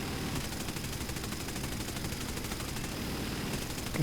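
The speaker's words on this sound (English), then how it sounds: "But don't forget, you do have a tail gun." An aircraft's tail gun in War Thunder fires a fast, continuous machine-gun rattle that holds steady and fairly loud throughout, with no pauses.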